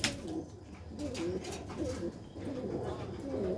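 Pigeons coo steadily in a low, throaty rolling call, close and continuous, with repeated phrases overlapping and a faint bird chirp above them.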